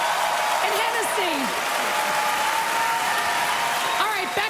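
Comedy club audience applauding during a Kathy Griffin stand-up set, a dense steady wash of clapping with cheers and whoops over it.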